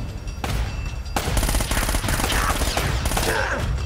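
Gunfire in Uncharted: Drake's Fortune during a firefight on the way to the tower, with loud rapid bursts and repeated shots running almost continuously and close up.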